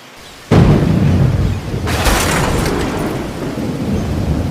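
Thunder cracks suddenly and rolls on in a long, loud rumble during a storm at sea, with heavy rain hissing steadily underneath and no voices.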